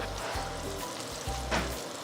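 Meatballs (polpette) sear in a small, very hot pan, giving a close, steady sizzle and crackle over a low hum.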